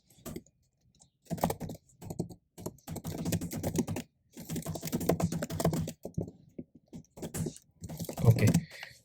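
Code being typed on a computer keyboard: bursts of quick close keystrokes with short pauses between them, clear and fairly quiet.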